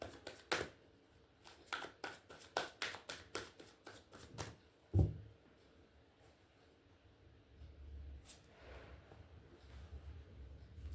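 A deck of tarot cards is shuffled in a rapid run of crisp, close riffling bursts for about five seconds, followed by quieter rustling and handling.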